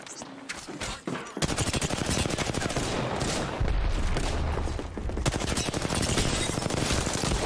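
Rapid automatic gunfire from Apex Legends, played during an EA Play Live 2021 stream, pours out in a loud, continuous barrage after a brief opening gap, sustained without letup to the end.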